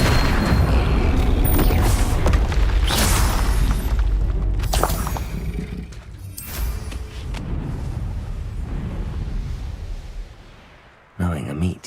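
A heavy booming blast from the Bombarda spell in Hogwarts Legacy, loud and close, followed by rumbling debris and a fading tail, with a sharp burst near the end.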